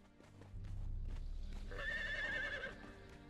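A horse in the video game Conan Exiles whinnies loudly in a long, wavering call, preceded by a low rumble and some clip-clop, with no talking.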